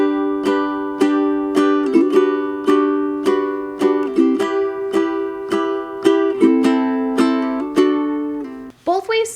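Ukulele strums the La Vie En Rose opening line without the bounce, evenly spaced chords ringing close and clear in a steady pulse, ending with a brief fumbled scrape at the close.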